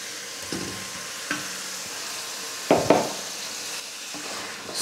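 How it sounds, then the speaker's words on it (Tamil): Half a kilo of chicken fries in hot oil on a high flame, a steady close sizzle broken by a few scraping stirs and sharper spoon knocks against the pan. "ஒரு 2லிருந்து 3 நிமிஷம் சிக்கனை நல்லா இந்த எண்ணெயிலே ஃப்ரை பண்ணிக்கோங்க"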